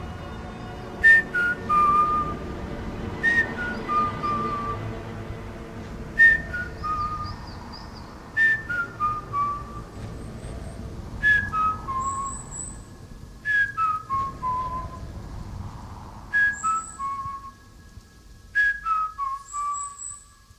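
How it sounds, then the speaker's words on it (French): Eerie whistling with long sliding tones repeats in separate phrases, rising and falling against a quiet background. "Ce sifflement venait de rompre ma tranquillité."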